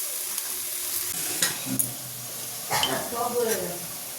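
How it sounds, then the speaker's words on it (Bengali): Spice paste of onion, chili, ginger and garlic sizzles steadily in a pan, with a few stirring scrapes and brief louder bursts of frying, close up and fairly loud. "চলো এবার মশলাটাকে বেশ ভালোভাবে কষিয়ে নিতে হবে।"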